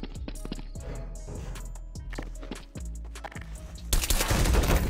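Rapid bursts of gunfire in the online game Garry's Mod, with sharp repeated shots through the first few seconds followed by a louder, dense noisy barrage at the end.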